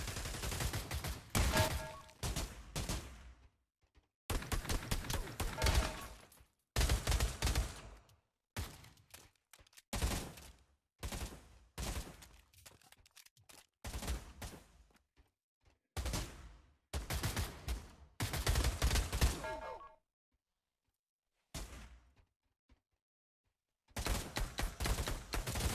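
Desert Eagle pistol fire in the virtual reality shooter Pavlov comes in repeated bursts of sharp, loud shots separated by short silences.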